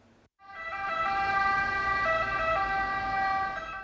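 An emergency medical car's siren sounds as it arrives at a road accident where a teenage motorcyclist was struck by a car, a loud, steady wailing tone that holds for several seconds with no one talking.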